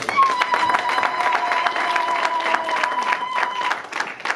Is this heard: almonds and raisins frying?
no